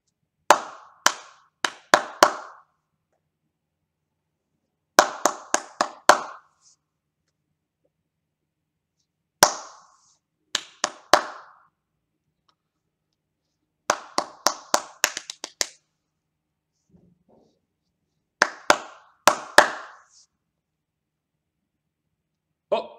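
Bursts of rhythmic hand clapping in a music lesson on syncopation, short patterns of quick claps separated by pauses of silence, crisp and close, with no talking.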